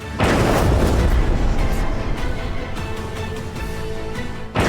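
A strike on a government headquarters during the Iran–Israel war sets off a loud explosion: a heavy, rumbling boom that swells fast and rolls on for several seconds before easing off.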